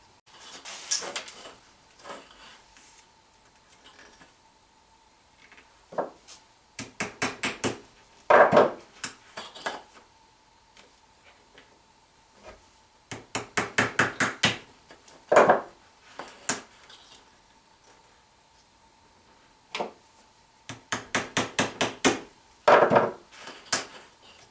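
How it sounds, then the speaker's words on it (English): A hammer taps lightly and quickly on an aluminium soda can to punch holes for an alcohol stove, in bursts of rapid metallic clicks separated by pauses, close up with no talk. "Notice I'm not hitting real hard with the hammer, I'm just tapping very mildly."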